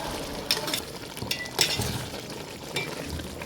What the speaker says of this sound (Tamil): மசாலாவை போட்டு நல்லா கிளறி விட்டுருங்க.